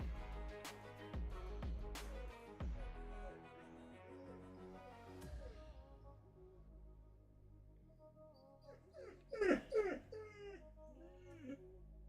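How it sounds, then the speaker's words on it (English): A puppy whimpers and yips in a short high-pitched burst near the end, after a stretch of music-like tonal sounds and household noise. "I need to let the puppy out briefly."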